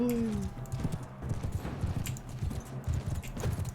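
Rhythmic hoofbeats of a galloping horse in the Mount and Blade battle game pound steadily and close, opening with a brief whinny over a low rumbling background.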